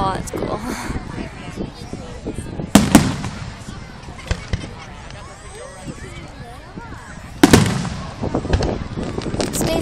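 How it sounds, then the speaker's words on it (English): Fireworks burst outdoors with two sharp, loud cracks several seconds apart over crackling and distant pops, while people chat and react nearby. "Fireworks."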